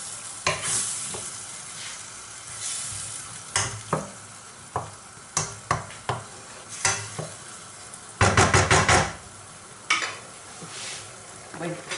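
White wine reduces in a pan of seafood rice, giving a loud sizzling bubble punctuated by repeated sharp scrapes of a utensil stirring the pan, with a burst of heavier frying near the end.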